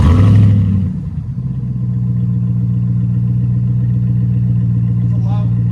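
A RAM TRX engine fitted with a BIGBOZ exhaust drops from a brief rev into a deep, steady, loud idle rumble that holds close and constant for several seconds.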